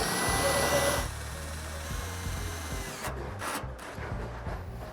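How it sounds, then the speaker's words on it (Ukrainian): A power screwdriver whirs in short bursts while driving screws to fasten a fingerprint door lock onto its mounting plates, close and fairly loud, with brief pauses between runs. "Прикручуємо сам замок уже до пластин."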